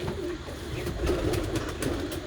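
A female grey pigeon, a fast flier kept in a loft, gives soft, low cooing. The murmuring notes repeat in a steady rhythm close by, with no talking over them.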